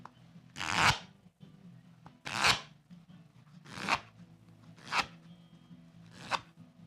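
A deck of playing cards being riffle shuffled at a magic performance, five separate bursts of crisp fluttering card noise spaced about a second apart over a low steady background hum, close and fairly loud.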